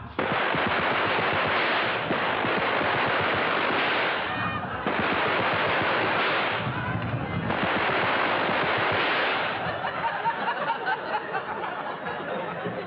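Sustained loud gunfire of rifles and machine guns from soldiers firing on command from cover, dense rattling bursts with a brief lull near the middle, then continuing, no speech over it.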